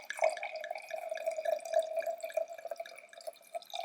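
Wine poured into a glass from a freshly opened bottle, a steady close liquid trickle with small splashes running the whole time.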